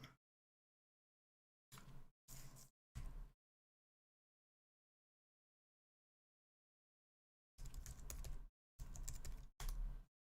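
Short, quick bursts of typing on a computer keyboard during a live developer demo, several clusters of rapid keystrokes separated by stretches of silence.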